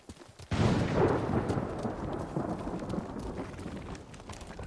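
A thunderstorm rages in the video game Ghost of Tsushima. A sudden, loud roll of thunder breaks over steady, heavy rain and slowly rumbles away beneath the constant downpour, with no voices.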